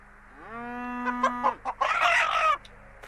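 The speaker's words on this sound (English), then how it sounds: "And here we have chickens." Chickens cluck in a farmyard in a biblical-era video game, a short run of bright, close clucks and squawks following a rising crow-like call, with steady ambient hum beneath and no talking.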